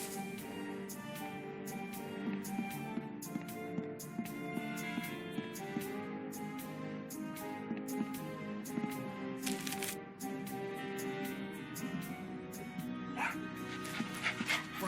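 Dead dog Franklin barks and yips in the Tales of Monkey Island adventure game, repeated short barks over a busy musical score with shuffling noises.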